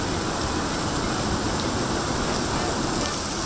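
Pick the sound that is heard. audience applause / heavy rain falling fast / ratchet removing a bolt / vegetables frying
heavy rain falling fast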